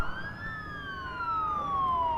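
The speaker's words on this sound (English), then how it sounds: "Look at all them ambulances." An ambulance siren wails in the SimCity city-building video game, one steady tone that slowly slides downward over a couple of seconds, heard alone at moderate volume above a faint background hum.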